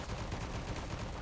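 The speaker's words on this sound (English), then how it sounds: "Alright, and then we'll go with scatter shot." A scatter shot magic attack in Forspoken, giving a dense, continuous rattle of rapid gunfire-like bursts at a low, distant level without pauses or voices.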